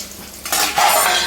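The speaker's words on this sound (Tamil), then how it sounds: "இதெல்லாம் போட்டு வணக்கணும்" Carrots and beans go into a hot pan and are sautéed. A quiet hiss jumps into a bright sizzle in two quick surges, close and without talk.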